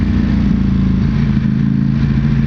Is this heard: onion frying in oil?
no